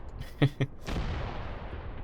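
Two sharp, heavy blasts of mortar fire land close together in the Mius Front war game, followed by a long low rumble that fades slowly.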